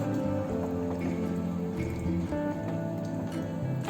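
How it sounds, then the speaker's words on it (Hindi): Water poured into a pan of frying masala for malai kofta, giving a steady close liquid trickle and splash with a soft sizzle over about four seconds, without talk. "अब इसमें हम डालेंगे पानी, उतना पानी जितने में ये सारी चीजें अच्छी तरह से डूब जाएं।"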